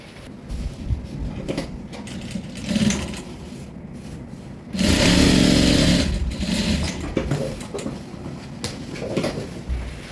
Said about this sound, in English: here I'm going to just sew it, seal it